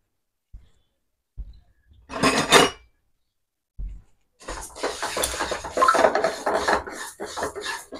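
Ingredients dry-roasted in a pan for a traditional South Indian feast: a few short scrapes and clinks, then a longer stretch of steady scraping and rattling as a spoon stirs against the metal, close and clear with no talk.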